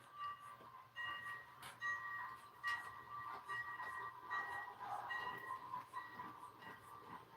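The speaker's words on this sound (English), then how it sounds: "I'll run the diesel locomotive after I get number 3 a lap or 2" Model diesel locomotive running on a home model railroad layout, a steady low mechanical whir with recurring brief tonal squeals and clicks from the wheels, moderately faint and continuous, with no voices.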